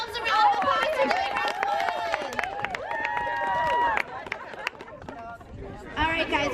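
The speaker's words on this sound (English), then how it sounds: "Let's give ourselves a round of applause for doing" A festival audience at a bookish panel event gives a round of applause. Clapping and crowd chatter blend under a prominent voice talking.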